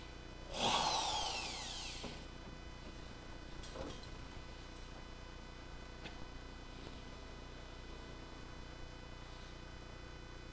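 A power drill whines briefly at a spot weld on a Dodge Charger crew cab body under restoration, one short loud burst followed by faint clicks and quiet workshop ambience.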